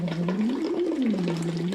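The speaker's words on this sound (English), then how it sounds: "you blow like this and you make bubbles on your tube like this" Bubbles blown through a tube into water during a voice exercise, with a steady hum-like tone gliding up and down over continuous bubbling for nearly two seconds, close and fairly loud.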